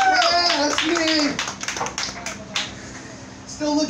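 An audience at an online happy-hour gathering claps for Anthony, brief scattered hand claps that sound fairly close, mixed under loud talking and cheering voices.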